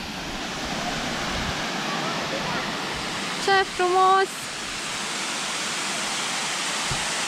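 A waterfall in a small Romanian forest over what may be limestone rocks pours with a steady, broad rushing roar from start to finish, with a brief spoken exclamation midway.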